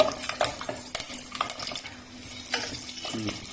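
Whole spices and slit green chilies frying in a pan for a green peas pulao, with clinks of a utensil stirring against the pan over a soft continuous sizzle, close and moderately loud.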